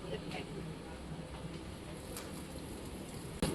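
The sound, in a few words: heavy rain falling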